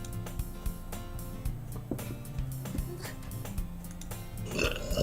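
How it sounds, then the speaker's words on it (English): A single faint burp sounds quietly over steady background music from a visual novel game. "Sorry. I was burping."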